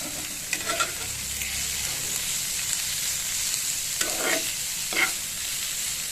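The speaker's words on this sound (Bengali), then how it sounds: "এবার আমি দু মিনিট ভালো করে নেড়ে চেড়ে ভেজে নেব" Pointed gourd being stir-fried with chopped coriander in a pan, a continuous sizzle with a few scraping stirs of a spatula close by and no talking.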